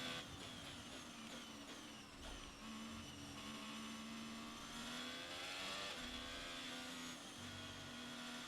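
Race car engine in the F1 22 video game at the Australian circuit, a loud continuous high-pitched whine with rising and falling revs and gear shifts, steady throughout with no talking.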